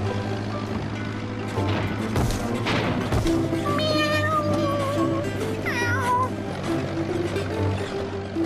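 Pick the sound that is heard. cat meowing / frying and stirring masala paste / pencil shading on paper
cat meowing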